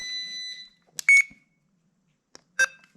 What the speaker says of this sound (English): this stupid jump box likes to beep a lot